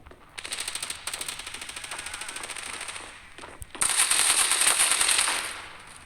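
Rapid P90 submachine gun fire in the mobile shooter Standoff 2, two sustained automatic bursts with a brief pause between them, loud and close, no voices.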